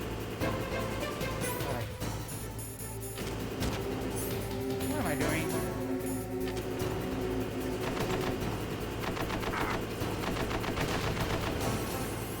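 A machine gun turret in the video game Metal Gear Solid fires in dense, sustained bursts under a steady game soundscape, with rattling shots blending into mechanical noise.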